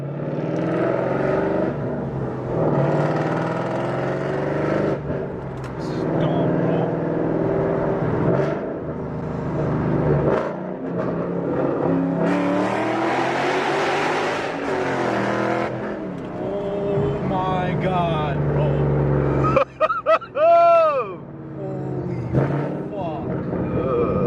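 A loud Ford Mustang GT exhaust with the resonator removed drones and rumbles throughout, with revs rising and falling, while people talk over it close by.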